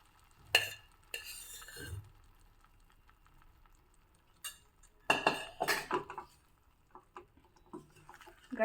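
Hot cooked rice, about three cups, going into a pan on a switched-off stove and being mixed, with scattered scraping and clinking of a spoon against metal, separated by quiet pauses.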